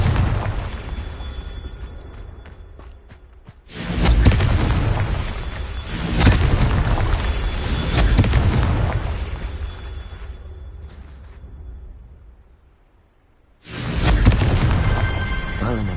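Confringo blasting spells in Hogwarts Legacy go off as heavy booming explosions, one big blast near the start and another burst toward the end, each loud and rumbling before decaying into quiet gaps.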